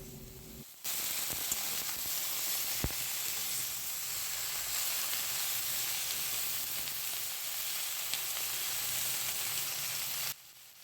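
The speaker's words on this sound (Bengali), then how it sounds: "ভালো করে সব কিছু নেড়েচেড়ে নেওয়া হচ্ছে আলুগুলোও এবার ব্রকলির সাথে ভেজে নেওয়া হবে" Potatoes and broccoli fry in a pan with salt, giving a steady, loud sizzle that runs almost unbroken for about ten seconds, with a faint scrape of stirring partway through.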